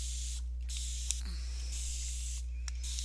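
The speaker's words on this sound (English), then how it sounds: "So I'm going to spray these down" A spray bottle mists water onto pieces of leather in two or three short hissing bursts over a low steady hum, close and fairly soft.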